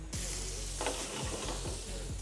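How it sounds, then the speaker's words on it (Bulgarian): Octopus sears in a preheated pan in a restaurant kitchen, giving a loud, steady sizzle that runs the whole time, with a few soft clunks of stirring or shifting in the pan. "Проверяваме дали е нагрят тигана, да може веднага да запечата октопода и да го остави по-сочен вътре в него."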